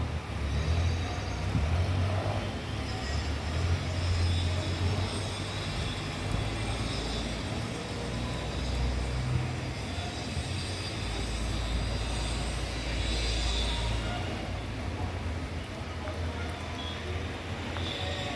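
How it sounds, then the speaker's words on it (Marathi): Cars and trucks roll along a waterlogged road during a heavy monsoon downpour, a steady broad wash of rain and tyre splash with low engine rumble passing close throughout, no voices. "हे काय गाड्या पाण्यातून जायचं"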